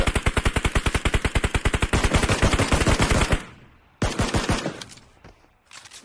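Rapid bursts of machine gun fire in a shooting video game, a steady fast rattle for several seconds that breaks off, then resumes in a shorter burst and stops, loud and close with no talk.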